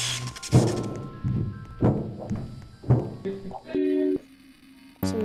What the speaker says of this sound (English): Somebody's at the vents, okay.